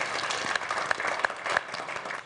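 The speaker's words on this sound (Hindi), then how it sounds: "चलिए, बहुत जोरदार तालियों के साथ स्वागत कीजिए" An audience at a Holi poetry gathering claps in welcome for a poet, a faint, steady spatter of hands with a few louder claps and a voice murmuring beneath.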